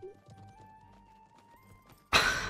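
Horse hooves clip-clop at a steady walking rhythm in the video game Conqueror's Blade, soft and even under a sustained tone, before a sudden loud burst of noise cuts in near the end.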